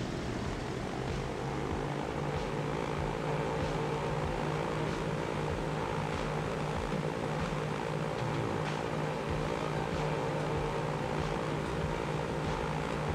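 A propeller airplane takes off in the video game Transport Fever 2, a steady droning engine with a constant low hum and buzzing harmonics that holds at an even level throughout, with no talk.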